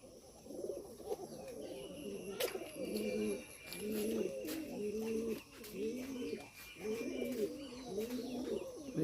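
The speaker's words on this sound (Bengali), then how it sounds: "অনেক পানি তৃষ্ণা লাগছে কবুতরটার, এই যে পানি খাইব এখন" Pigeons, Green-necked and Bombay birds, coo repeatedly in a steady rhythm of soft, low phrases close by, with faint chirps and background noise; drinking from water is not separately audible.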